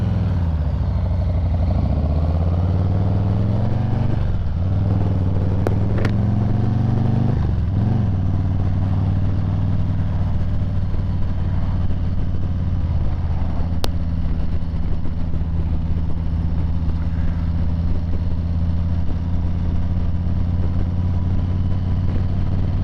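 A motorcycle rides through traffic, a steady engine drone rising and falling in pitch as it shifts and accelerates, with heavy wind rumble throughout and no talk.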